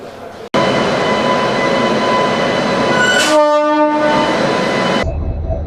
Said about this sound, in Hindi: आज सुबह ही यहां पर पहला इलेक्ट्रिकल इंजन का ट्रायल किया गया